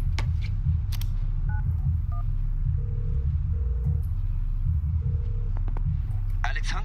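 Phone dialing in FIFA 19's The Journey mode: a few short dial beeps followed by evenly spaced electronic tones, over a constant low hum.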